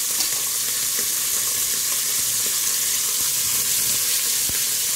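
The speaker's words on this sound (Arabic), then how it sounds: "ما بعد ما حمرتهم على زيت شوية" Lamb chops sizzling and frying in a pan of oil, a steady loud crackling hiss with small pops running throughout, with no talking.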